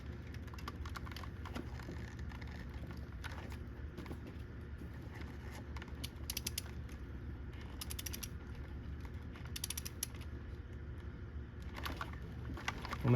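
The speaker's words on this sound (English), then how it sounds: "we're going to go ahead and torque these down" A torque wrench ratchets as valve cover bolts are tightened on a Toyota 3.4L 5VZ-FE V6 engine, giving faint, repeated clicking and metallic ticks over a low steady hum, close by.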